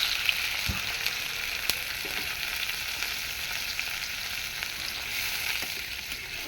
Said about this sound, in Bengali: আমি মশলাটা কষায় টমেটো দিয়ে ঝোল বাটা দিয়ে ভালো করে কষায় নিব।